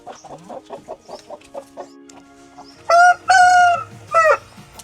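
Roosters and hens in a new hut: a run of quick clucks at first, then several loud, close rooster crows one after another, with faint farmyard background.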